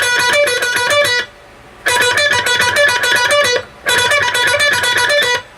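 Distorted electric guitar plays a repeated riff in three quick picked bursts separated by short pauses, loud and alone with no voices.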